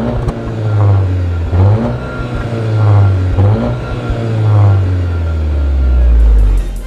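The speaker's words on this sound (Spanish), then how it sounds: "esta doble salida de escape, que es totalmente funcional y la verdad suena bastante bien" A Volkswagen Jetta GLI engine revs up and down repeatedly in bursts, a deep throaty rumble from its dual exhaust rising and falling close by, with no talking.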